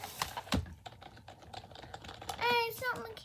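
Soft clicks from typing on a non-mechanical computer keyboard come in short bursts, with a young voice talking and a brief higher-pitched vocal sound over the keys.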